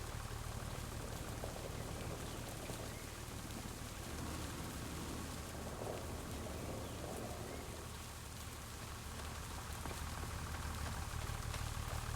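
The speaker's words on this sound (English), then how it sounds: "And it's just started to rain." Steady, dense rain hisses evenly throughout a farming game, with a low engine-like rumble underneath.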